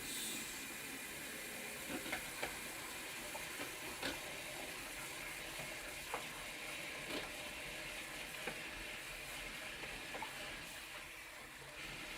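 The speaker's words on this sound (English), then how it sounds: "Good old air fryer." An air fryer cooking burgers gives a steady fan whir and a soft hiss with faint ticks throughout, heard alone without talk.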